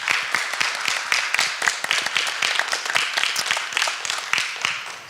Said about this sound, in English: perhaps an opening round of applause